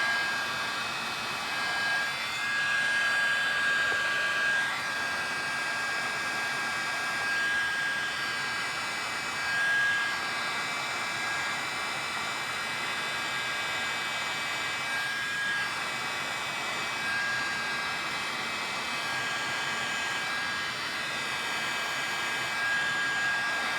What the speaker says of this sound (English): as you use your heat gun, as it dries, it'll kind of give that almost kind of ripple effect where you're blowing it around